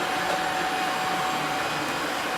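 Robot vacuum cleaner running during a cleaning test in a room, a steady loud whirring motor hum throughout with no talk.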